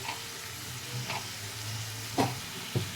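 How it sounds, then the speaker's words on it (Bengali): Chopped tomatoes sizzling steadily in a hot pan while a spoon stirs them, with a constant frying hiss and a couple of sharper scraping stirs near the end. "টমেটোটা ভালো করে নাড়া করে নেব করে ভালো করে গলে যাবে"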